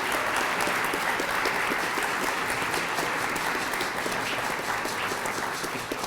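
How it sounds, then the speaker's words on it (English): Audience at a veterans remembrance event applauds the Norwood High Madrigal Choir, a sustained, even wash of many hands clapping with no voices over it. "can we just give them a round of applause for entertaining us today?"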